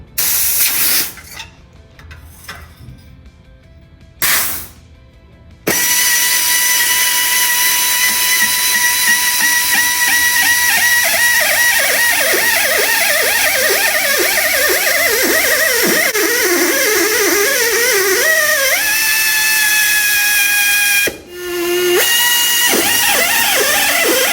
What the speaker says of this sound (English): we're gonna move over to one that has a weld on it and remove the weld